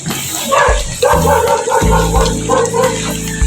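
A dog barks loudly and close by in several sharp bursts, with whining tones between them.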